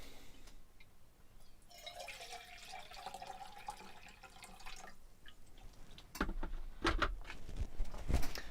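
Water being poured for a drink, a soft steady trickle with faint dripping, followed by louder clunks and splashy handling sounds near the end; no one speaks.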